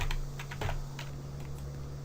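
Keys clack on a computer keyboard in a short burst of typing that ends with an Enter press, close and moderately loud over a steady electrical hum.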